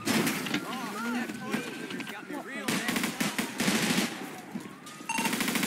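Rapid gunfire crackles in a GTA V FiveM roleplay police scene, with bursts of shots and machine-gun-like volleys over engine noise while people talk throughout.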